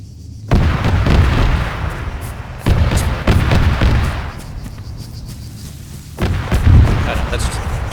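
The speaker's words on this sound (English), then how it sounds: "I know, that's just good old-fashioned gunfire." Booming gunfire in the military video game ArmA 3 comes in several heavy bursts of shots and blasts, loud and echoing, separated by short lulls.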